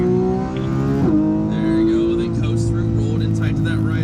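A car engine pulls out of a corner in third gear on a track, its tone holding steady then climbing as it accelerates, loud and close, with someone talking over it.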